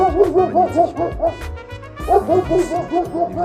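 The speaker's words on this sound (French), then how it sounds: "on s'excuse pour le bruit du chien" A dog barks repeatedly in quick bursts close by, with short pauses between volleys.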